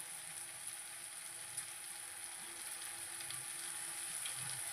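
Tomato and broad bean curry frying in a pan, a faint, steady sizzle with soft hiss and light crackle, continuous and alone without any voices.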